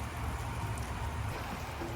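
Heavy rain pours down steadily outdoors, a dense, continuous hiss of drops striking surfaces with a low rumble underneath, constant and fairly close with no voices.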